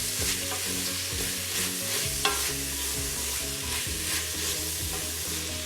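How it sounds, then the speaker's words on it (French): Iblis frying in a pot with fresh parsley and coriander for a chicken and wheat dish, a steady sizzle with repeated scraping strokes of a spoon stirring throughout. "Je fais revenir là mon Iblis. Je vais rajouter mon persil et mon coriandre frais"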